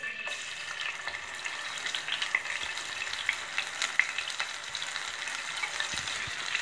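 A paste of two onions and two green chilies fries in oil in a pan for a country-chicken masala curry, a constant moderate sizzle dotted with small crackles and faint stirring clicks.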